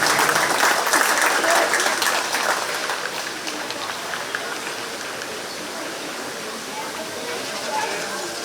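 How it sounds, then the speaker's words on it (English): A crowd at a county fair 4-H goat show claps steadily, a dense patter of many hands that starts loud and gradually thins and softens before swelling slightly again near the end. "Let's go ahead and give all these exhibitors a nice round of applause"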